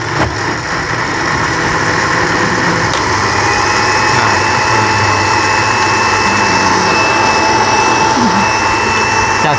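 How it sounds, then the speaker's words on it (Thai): A blender whirs steadily as it purees a herbal health drink, a loud, continuous motor drone running unbroken from start to finish. "แล้วปั่นพอเสร็จแล้วปั่นแล้วมากรอง"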